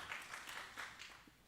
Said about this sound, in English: big round of applause for Namba-san